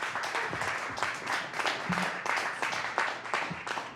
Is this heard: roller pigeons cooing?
no